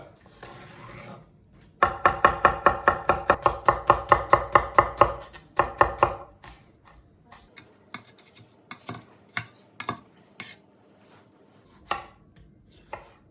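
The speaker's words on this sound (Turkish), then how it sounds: "Önce malzemeleri doğrayalım." Rapid, steady knife chops on a cutting board as vegetables such as red pepper are cut, a fast burst followed by slower, scattered cuts, close and crisp with no talking.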